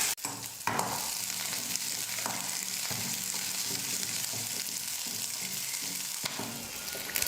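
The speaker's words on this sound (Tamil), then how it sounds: "பூண்டு லைட்டாக வதக்குனதுக்கப்புறமா 10 சின்ன வெங்காயத்தை சேர்த்துக்கிறேன்" Small shallots and garlic sautéing in oil in a pan, a continuous close sizzle with occasional stirring scrapes throughout, without speech.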